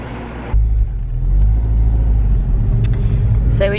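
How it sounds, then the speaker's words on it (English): Car interior while driving through a city centre, a loud steady low engine and road rumble that swells after half a second, with brief faint clicks and a high noise at the end. "we're gonna drive through the centre"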